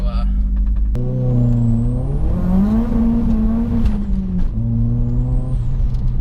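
A tuned Ford Focus RS Mk1 with over 400 hp accelerates hard on a pull. The engine note rises steadily and loud, eases briefly, then climbs again, with a voice partly over it.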